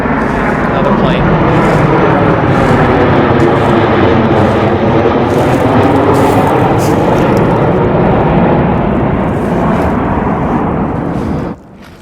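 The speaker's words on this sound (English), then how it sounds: "Another plane." A large airliner departing Atlanta International passes low overhead, a loud, steady broadband jet roar that holds for about eleven seconds before cutting off abruptly near the end.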